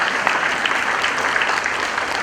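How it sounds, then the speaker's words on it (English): Dense, steady audience applause for an advocate introduced at a formal event, a continuous wash of many hands clapping at even loudness throughout, with no voices standing out. "Please put a round of applause for Rodney Ryder."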